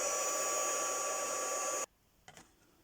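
A hair dryer blows with a steady high whine for about two seconds, then cuts off abruptly, leaving near silence and a faint clatter.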